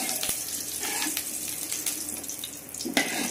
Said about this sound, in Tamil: இப்போ இந்த கருவேப்பிலை போட போகிறோம் எண்ணெயில்.